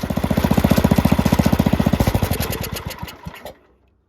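A Cub Cadet Original lawn tractor engine runs steadily with a loud, fast, even thumping beat that slows and fades, then cuts off near the end, leaving silence.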